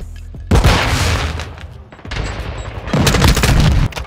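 Cruise missile explosions and gunfire from Call of Duty Modern Warfare 2 erupt in loud booming bursts, with heavy blasts and rapid shots clustered in two intense stretches separated by a short lull.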